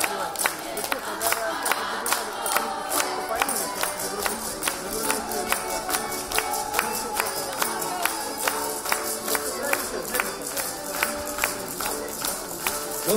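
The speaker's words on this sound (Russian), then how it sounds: "И аплодисменты зрителей. Бурные, бурные, бурные." Steady, dense crowd noise with rhythmic clapping from a festival audience at a creative arts event for older people, continuous and fairly loud throughout, with no talk over it.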